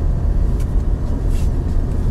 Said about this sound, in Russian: Ребят, по шуму автомобиль вообще классный.